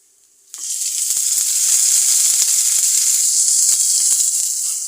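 After a moment of quiet, a loud sizzle bursts out as onions and green chillies meet hot oil in a wok, then holds as a steady hiss with small crackles.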